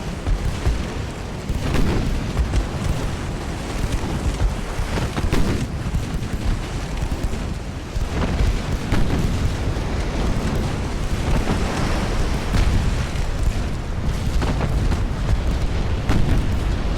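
Naval battle in Ultimate Admiral Dreadnoughts: a continuous loud barrage of ship gunfire and shell impacts, deep booms and bursts overlapping one another with no letup.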